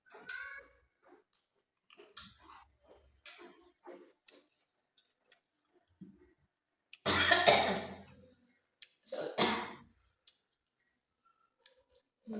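A person coughs after eating dried chili powder with salt: several short dry coughs in brief bursts, close and fairly loud, with quiet gaps and soft clicks between.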